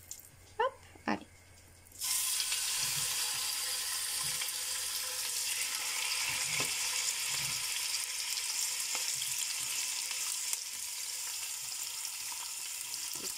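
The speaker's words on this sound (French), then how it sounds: "Dans une grosse cocotte, donc j'ai fait chauffer de l'huile d'olive et je vais y ajouter l'agneau." Lamb dropped into hot olive oil in a large casserole bursts into a loud, steady sizzle after a couple of soft knocks, hissing continuously with occasional faint stirring clatters.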